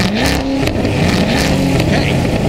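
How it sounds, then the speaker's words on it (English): A Corvette ZR1 engine revs hard and close, with a rough, loud roar that rises and falls in quick bursts. "the ZR1 doesn't sound like a Corvette"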